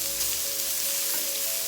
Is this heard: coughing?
no